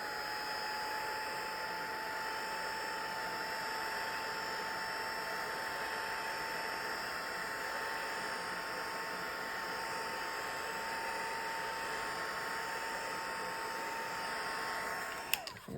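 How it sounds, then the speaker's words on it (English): A heat gun blows over a gel print to dry its acrylic paint, giving a steady, even whirring hiss with a faint tonal whine that runs unchanged for about fifteen seconds before a small click at the end. "I'll try and dry it off a little bit with the heat gun"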